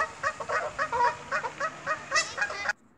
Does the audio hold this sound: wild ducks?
yes